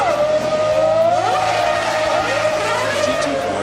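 Eight race car engines rev to 18,000 RPM, their high, wailing tones sweeping up and down in overlapping passes, loud and close, with a voice faintly present underneath.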